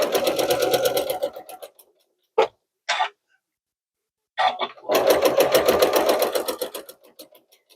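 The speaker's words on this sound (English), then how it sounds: "I'm going to just sew right on that line" A sewing machine stitches a quilted two-handed pot holder in steady rapid bursts. It runs, pauses for a few short clicks as the needle pivots at a point, then resumes stitching up close.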